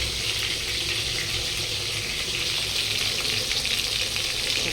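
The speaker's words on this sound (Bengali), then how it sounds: "হালকা করে লাল করে ফ্রাই করে নেবো" Fish frying in a pan, a loud, even, close-up hiss of hot oil with fine crackling, continuous and unbroken, no talking.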